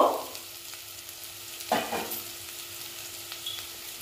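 Ginger, onion and tomato fry in a pan with a soft, low sizzle, broken by a few brief stirring knocks near the start and middle, with no voices.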